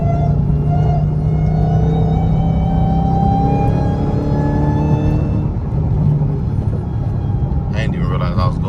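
A Dodge Hellcat with a cold air intake roars loud and close, its engine tone climbing steadily in pitch as it accelerates, then easing before a brief burst near the end.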